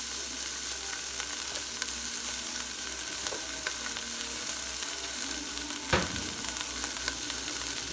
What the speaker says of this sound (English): I just am going to plop this in here and let it brown up on all sides